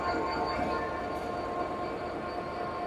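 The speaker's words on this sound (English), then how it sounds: "And here's the loco." A Deutsche Bahn locomotive hauling a charter train gives off a steady low rumble and hum, continuous and moderately distant, with no clear talking.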